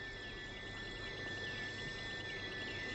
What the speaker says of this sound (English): In the dusk, the jungle crickets, thousands of them, are almost deafening.